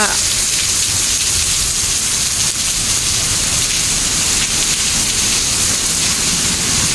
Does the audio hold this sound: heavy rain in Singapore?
yes